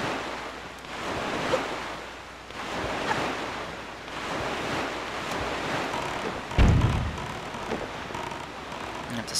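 Ocean waves wash and surge around a sailboat in Zelda: The Wind Waker, with broad rushing noise and wind, a steady swell, and a heavier splash near the end, with no voices.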